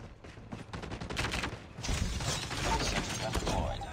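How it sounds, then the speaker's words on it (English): Sentry gun deploying in Call of Duty Mobile, heard as clattering mechanical ratchets and whirs mixed with bursts of gunfire and a busy battle din, with voices talking underneath. "Sentry gun deployed."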